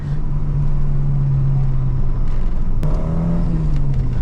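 A loud, steady engine drone from a Peugeot 309 GTI 16 sports car that rises in pitch partway through as it revs close by.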